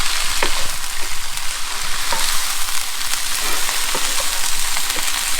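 Kalua pig, Hawaiian shredded pork, being stirred in a hot pan, with a steady close sizzle and frying crackle and intermittent scraping stir sounds throughout, no talking.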